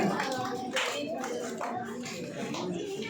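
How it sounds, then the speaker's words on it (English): Continuous clapping from an audience at a school Teachers' Day event, moderately quiet and dense, with voices and chatter mixed in throughout. "Keep clapping"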